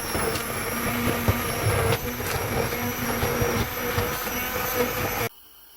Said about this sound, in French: Donc je vais le mixer maintenant.